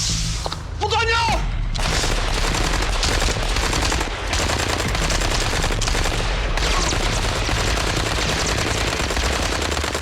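Sustained automatic gunfire rattles through a shootout, loud and continuous with dense bursts and booms, while shouting voices break in briefly near the start.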